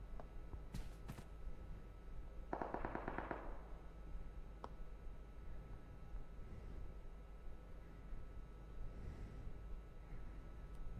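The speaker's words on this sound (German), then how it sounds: "da waren gerade Schüsse zu hören." Faint, distant gunshots in the mobile battle-royale game PUBG Mobile: a couple of sharp cracks early on, then a brief rattling burst and a single later pop over a quiet ambient hum.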